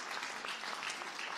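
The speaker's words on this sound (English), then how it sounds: "You can clap for her." Audience applause after a thank-you at a university listening session, a steady dense wash of many hands clapping at once, fairly faint and even throughout the short burst with no voices over it.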